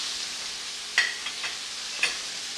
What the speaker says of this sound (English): We're getting that sear going on.